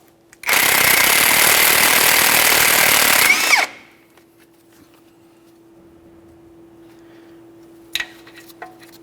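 A pneumatic impact wrench loosens the 21mm mounting nut on the outer tie rod end of a 2004-2008 Ford F-150, a loud steady hammering burst of about three seconds that winds down, followed by quiet and a brief metallic clink near the end.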